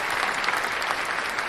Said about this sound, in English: I'm gonna give myself some hand claps.